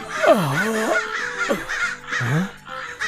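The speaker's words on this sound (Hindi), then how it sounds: "तभी अचानक कौवों की काव काव से उसकी नींद टूट जाती है।" Several crows caw loudly and harshly near a hut, a sequence of drawn-out, swooping calls in quick succession.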